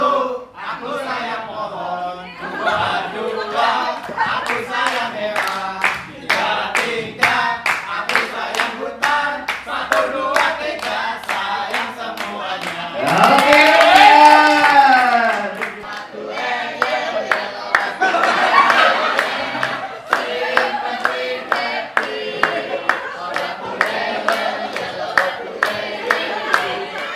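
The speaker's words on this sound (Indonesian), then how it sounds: "tepuk tangan dulu dong" A group of children clap hands in rhythmic applause at a community forest cadre event, with short bursts of clapping throughout and a louder cheering swell midway, mixed with adult and children's voices speaking and chanting over it.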